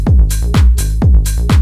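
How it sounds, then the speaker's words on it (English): A tech house transition section made in FL Studio, with a punchy kick on each beat, bright clap or hat hits in between, and a deep pitched bass, looping loudly in a tight, steady groove. "I decided to add a little section that acted as a little transition between this section."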